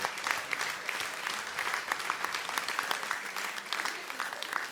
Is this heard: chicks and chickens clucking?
no